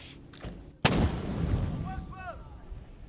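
Mortar fire aimed into Sirte during the Libyan conflict: one sharp, loud boom rolls out into a long rumbling tail, followed by faint distant whistling sounds over outdoor background noise.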